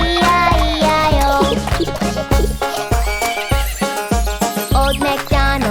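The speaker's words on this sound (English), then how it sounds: "And on his farm he had a horse. E-I-E-I-O. With a neigh-neigh here and a neigh-neigh there." A horse neighs in a nursery-rhyme farm song, its whinny ringing out over bouncy music with clip-clop hooves and jingling, loud and up front.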